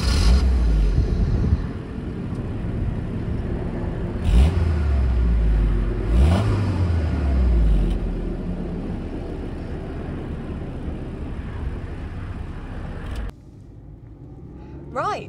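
A 2000 Honda Logo driven on the road, its small engine humming and revving up through gears from inside the cabin, a steady drone with rising pitch sweeps before settling quieter near the end.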